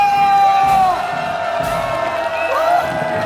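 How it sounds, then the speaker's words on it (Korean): A festival crowd at the 21st Mundchangpo mysterious sea-road festival cheers and whoops loudly on cue, a continuous wash of shouts and yells with scattered high calls, close and sustained throughout. "박수 함성!"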